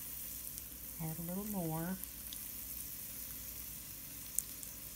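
Johnny cake cornbread batter fries in hot grease, giving a steady, soft sizzle throughout. A person speaks briefly over it near the start.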